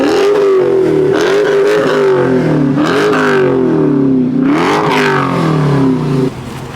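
A Dodge Challenger SRT with a Hemi V8 revs loudly and close, its engine note rising and falling in several throttle blips before dropping off at the end.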